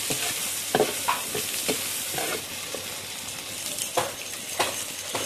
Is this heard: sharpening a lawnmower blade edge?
no